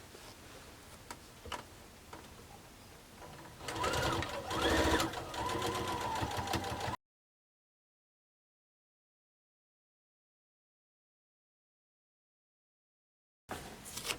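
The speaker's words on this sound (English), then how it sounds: "we're gonna sew the little piece to one background square" Sewing machine stitching lightweight quilting fabric pieces onto a background square for a four-patch block, a close steady mechanical whir with a ticking rhythm that grows louder midway, then stops abruptly into silence before briefly resuming.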